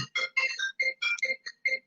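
A mobile phone rings with a bright electronic melody of short repeated tonal bursts, fairly quiet and steady, with no talking over it.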